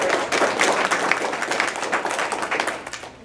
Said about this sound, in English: round of applause for taking the time to do this.